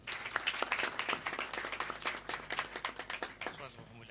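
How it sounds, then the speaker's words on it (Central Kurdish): Audience applause with scattered individual claps at a Kurdish cultural gathering, a steady dense patter of hands lasting several seconds at moderate volume. "چەپڵەیەک"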